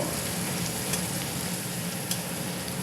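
Ingredients frying in just a little oil, a steady close sizzle and crackle with faint stirring, continuous and fairly loud throughout with no talking.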